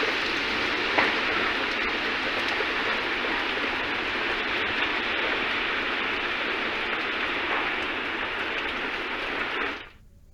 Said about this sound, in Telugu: అటు కాగజ్ నగర్ లో కూడా భారీ వర్షం పడింది.